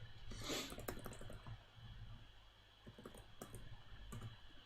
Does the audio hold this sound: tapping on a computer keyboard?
yes